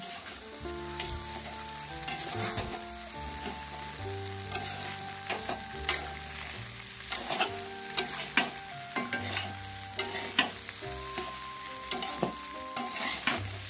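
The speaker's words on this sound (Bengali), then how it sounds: "চাল ডালটা সুন্দর করে মিক্স করে দিতে হবে।" Rice and dal khichuri is stirred in a pan that is catching at the bottom, giving soft sizzling with repeated scraping and clinking strokes of the spoon at an uneven rhythm, alone and close.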